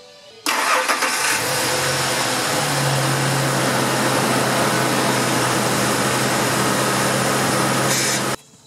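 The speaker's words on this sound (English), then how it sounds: "I'm going to start the vehicle and turn the wheel to the right" A car engine cranks and catches, then runs at a loud, steady idle close by for several seconds before cutting off abruptly.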